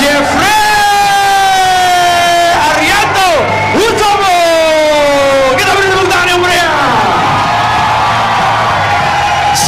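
Crowd at a One Pride MMA semifinal event in Indonesia cheers and whoops during a fighter introduction, loud and sustained, while an announcer's drawn-out voice rings over the noise.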